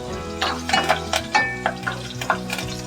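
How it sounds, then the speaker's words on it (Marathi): Mustard seeds and cumin sauté in a pan over a low gas flame, sharp popping crackles over a steady sizzle, with a tonal background hum running throughout. "हे सगळं परतून घेऊया."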